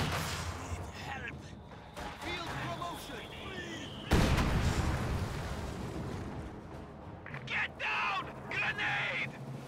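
Heavy 120mm mortar artillery fire on a war video game battlefield, deep booming blasts and rumbling impacts in a steady barrage with a commentator talking over it.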